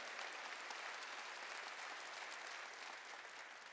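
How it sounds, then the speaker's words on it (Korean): A church congregation claps during a sermon, an even wash of faint, distant applause holding steady before easing slightly. "박수로 하나님께 영광 돌려야 돼요"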